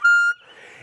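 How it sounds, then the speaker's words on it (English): A harmonica glides upward to a bright, held high note around the 9 blow hole, loud and close, then breaks off into a soft tail of breath. "if you go all the way up to like 9 blow, it sounds something like this"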